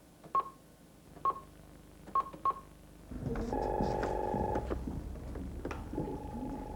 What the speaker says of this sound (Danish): så grib telefonen og slå nummeret på Sakskøbing Kommunes borgmesterkontor